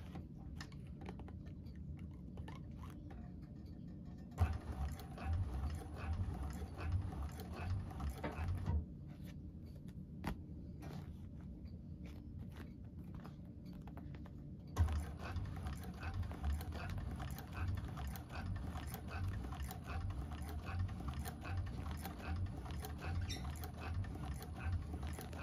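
Cylinder arm sewing machine (model 1341) stitching a bag, heard as a quiet, rapid ticking patter in several runs with softer gaps, close but low in level.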